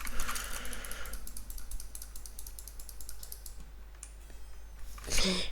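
Quick, dense run of clicks fills the first few seconds while shooting in a Roblox shooting simulator game, then thins out before a brief louder burst near the end; faint talk sits low underneath.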